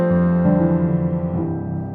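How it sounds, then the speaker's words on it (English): Sustained chords from the Pure Upright virtual piano app, played from a MIDI keyboard with a morph pad shaping its tone, ring out warm and full, shifting to a new voicing about a third of the way in and again near the end. "a piano app called Pure Upright"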